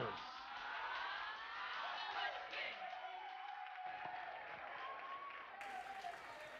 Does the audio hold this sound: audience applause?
yes